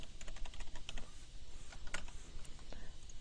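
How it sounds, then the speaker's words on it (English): Computer keyboard typing with quick bursts of keystrokes scattered through the moment, close and fairly clear, with a soft pause near the middle before a few more clicks. "on the label we'll type guts"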